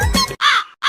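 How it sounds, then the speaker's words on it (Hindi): A crow caws loudly and close by, two or three harsh rasping calls in quick succession. "कौवा काऊ काऊ कर रहा है"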